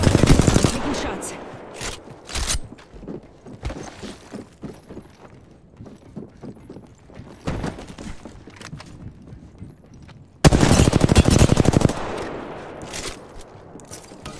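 Bursts of automatic gunfire from the Apex Legends battle royale game, loud dense volleys at the start, around two and a half seconds, near eight seconds and a long sustained burst near eleven seconds, with sparser single shots between.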